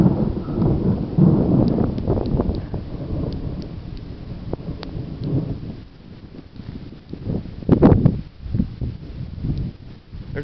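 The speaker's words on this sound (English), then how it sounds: "God dang, thunder's nice and loud." Loud thunder in a summer thunderstorm in Cambridge City, Indiana, with deep rolling rumbles and a sharp crack near eight seconds over steady rain, with no voices.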